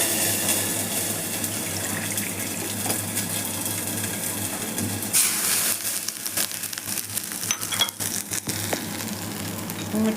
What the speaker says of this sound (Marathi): पाणी टाकूयात.